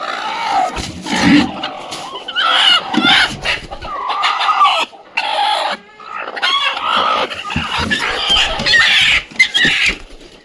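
Village country chickens and young kuduk (broody) hens cluck loudly and busily at close range, with overlapping calls and a crow in a farm poultry pen.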